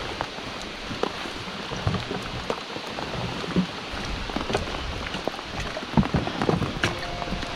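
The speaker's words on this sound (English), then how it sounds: "Raining like crazy." Heavy rain patters densely on water and a fishing boat, a constant wash of drops with scattered sharper taps, steady and fairly loud with no voices.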